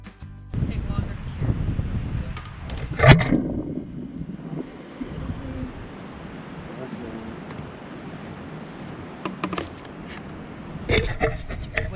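Outdoors at a septic system dig, gusty wind buffets the microphone with low rumbling blasts that rise and fade, while a voice speaks briefly in the middle.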